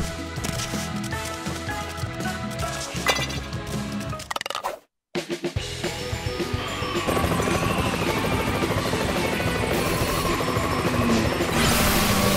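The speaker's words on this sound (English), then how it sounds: "Sky, use your copter." A helicopter in the Paw Patrol The Movie: Adventure City Calls video game, steady loud rotor thump and engine whine, a sudden brief cut to silence midway, then the rotor returns stronger and rises toward the end.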